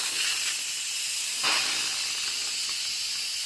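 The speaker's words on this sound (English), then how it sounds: "And then I'm going to release the steam." Steam hisses loudly and continuously from the pressure release valve of an Instant Pot cooking chicken, a close, unbroken sharp jet of sound.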